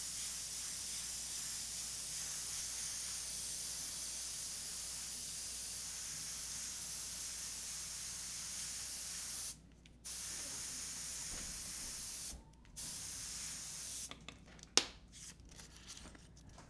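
An airbrush sprays paint over a stencil for a zombie-themed painting, a steady, quiet hiss that runs unbroken and then cuts out in a few short pauses and quick bursts near the end.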